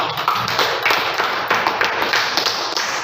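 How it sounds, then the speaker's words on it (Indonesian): Students in a classroom applaud their classmates, a dense burst of clapping that continues for several seconds at close range. "Kasih dulu aplaus teman-temannya yang sudah berangkat"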